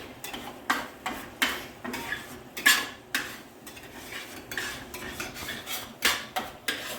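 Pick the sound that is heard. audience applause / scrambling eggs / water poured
scrambling eggs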